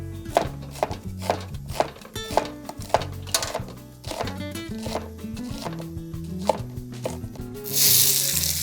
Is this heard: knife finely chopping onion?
yes